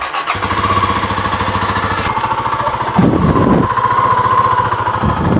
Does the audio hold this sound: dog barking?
no